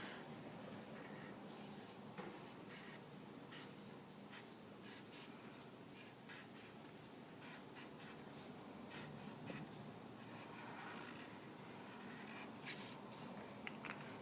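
Coloring a sun picture on paper with brush and paint, soft close scratchy strokes and rubs repeating irregularly at a quiet level, with no talking.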